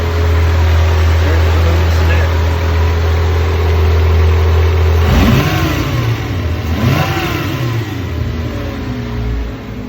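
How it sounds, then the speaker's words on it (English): A 1990 VW Jetta Coupe VR6 engine runs while driving, first a steady low drone, then revving and accelerating with rising pitch, loud and close, with some talk over it. "Hard to hear the engine over."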